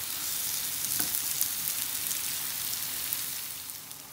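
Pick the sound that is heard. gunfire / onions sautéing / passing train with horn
onions sautéing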